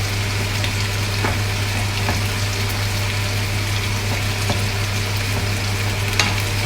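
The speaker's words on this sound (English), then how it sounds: "making sure we can see the vegetables are bubbling away nicely" A vegetable stew in a Moroccan chicken and vegetable stew pot bubbles and sizzles steadily at a close, even level, with occasional faint pops and ticks over a constant low hum.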